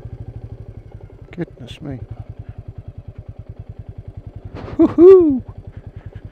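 A Royal Enfield Meteor 350 thumps steadily in first gear on a steep off-road track through trees, a close, even engine pulse running throughout while a man exclaims and whoops over it.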